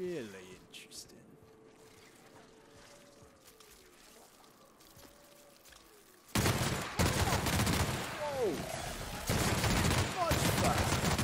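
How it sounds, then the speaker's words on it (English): Light machine gun with a high rate-of-fire barrel in The Outer Worlds, firing a long, loud, continuous burst that suddenly starts midway and roars on with a brief dip, after quieter game ambience with whistling tones. "I also changed the barrel on my light machine gun to increase the rate of fire"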